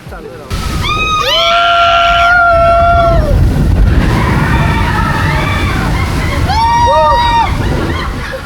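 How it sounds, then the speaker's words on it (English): Rushing, sloshing water surges loudly as a log flume boat on Splash Mountain at Tokyo Disneyland splashes through, with excited voices shrieking and shouting over the noise. "After Pooh, we then went over to Critter Country to ride Splash Mountain."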